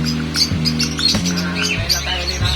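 Small birds chirp and tweet in a busy aviary, short high calls overlapping in a steady chatter, with a low continuous hum running underneath.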